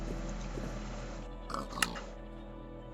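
Pigs in the game Minecraft give a few short oinks over a low steady hum, the grunts clustered near the end.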